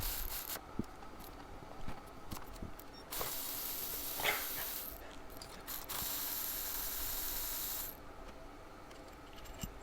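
A ratchet wrench loosening and removing the bolts holding a car alternator, with bursts of rapid clicking and longer stretches of continuous ratcheting up close, separated by brief pauses and no talking.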